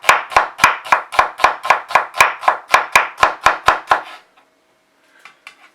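A knife rapidly chopping onion finely on a cutting board for patatas bravas, about fifteen crisp, evenly spaced knocks in a steady fast rhythm, close and loud, then stopping with a few faint clicks.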